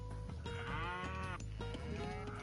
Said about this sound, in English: We've got a lot of cows ready to go.